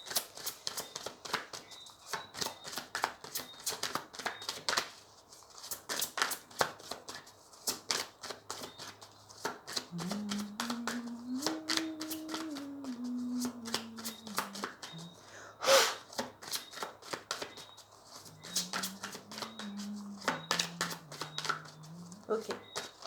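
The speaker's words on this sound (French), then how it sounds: "Maintenant, on va tirer les cartes du sens de la vie de Doreen Virtue." A Doreen Virtue life-purpose oracle deck is shuffled for a card reading, making rapid, crisp riffling clicks and soft slaps up close, while a low voice murmurs briefly in the background.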